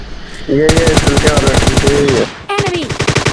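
Loud rapid automatic gunfire bursts from the video game PUBG Lite: a sustained volley of close shots for about two seconds, a short break, then another quick burst.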